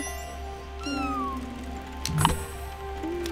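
Cat in the video game Spiritfarer gives a couple of clear, close meows, one rising and one short, over soft game background music with a brief chime near the end.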